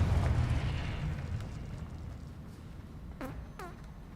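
The Confringo blasting spell in Hogwarts Legacy bursts with a deep, rumbling explosion that fades over a few seconds, followed by two short rising magical chimes.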